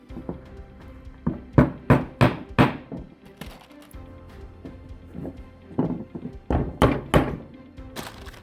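Wooden dowel pins tapped into a board while building a folding indoor dog gate, heard as a series of close, solid thunks in uneven clusters with short pauses between them.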